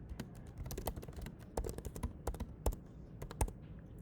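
Typing on a computer keyboard, a quick irregular run of sharp key clicks, close and clear, with brief pauses between bursts and no talk.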